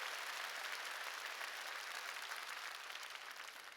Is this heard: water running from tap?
no